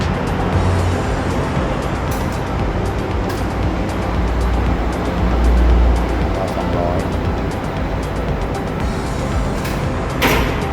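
A used Chin Fong 6-foot lathe with a 600 swing, on 220V household power with an inverter drive, spins at high speed. It gives a steady, dense whirring roar with a low hum and occasional faint clicks throughout.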